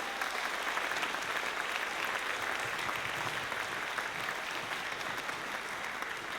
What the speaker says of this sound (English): Let's give our seniors another big round of applause.